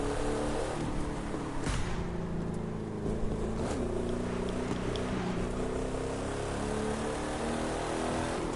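An American muscle car engine in the racing game The Crew 2 gives off a loud, steady, rumbling drone with layered harmonics. It holds the same level for several seconds, with no talking.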